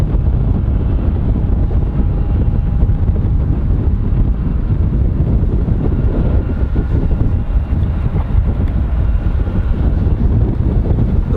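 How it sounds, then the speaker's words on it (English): Steady wind buffeting a microphone outdoors at an airport, a loud, constant low rumble with no clear breaks and no speech. "Wind seems to have ever so slightly picked up"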